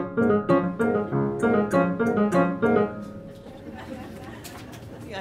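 A percussive effect mimics a horse's gallop with quick, closely spaced hits in an uneven rhythm over roughly three seconds, then fades into quiet room tone.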